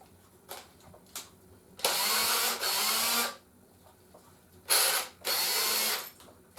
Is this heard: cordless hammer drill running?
yes